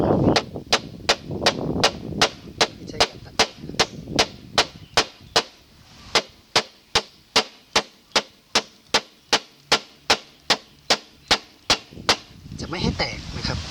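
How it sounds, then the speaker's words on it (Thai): Knife chopping into bamboo to cut it in traditional hand woodworking, about two dozen sharp, evenly spaced whacks close by, with a voice briefly audible at the start and end. "เขาจะใช้ลักษณะการตัด การตัดคอนไม้อย่างนี้นะครับ"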